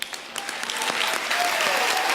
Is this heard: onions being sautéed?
no